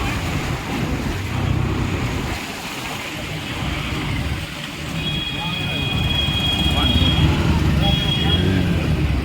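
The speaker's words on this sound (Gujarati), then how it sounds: "Oh, too much water coming." Heavy monsoon rainwater rushes through a flooded street in Porbandar, a steady loud wash of flowing water mixed with wind buffeting the microphone, while people talk over it.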